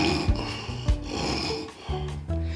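A storyteller's voice imitates a child snoring, giving a few drawn-out rasping snore sounds close up with no other speech.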